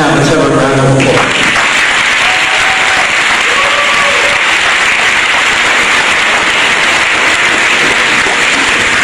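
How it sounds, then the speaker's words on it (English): A crowd at a high school senior awards night breaks into loud, sustained applause. The clapping is dense and even, with a few voices at the very start before it settles. "Now, let's have a round of applause."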